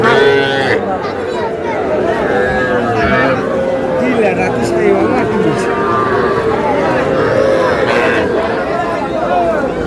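A young bull calf moos amid the loud, constant hubbub of a crowded weekly cattle market in Bangladesh, with many people talking nearby.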